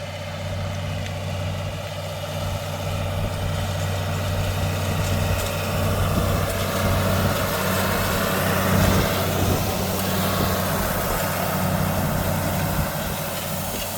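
A heavy tractor engine idles steadily nearby, a constant low throbbing hum that holds for the whole stretch with slight swells in loudness.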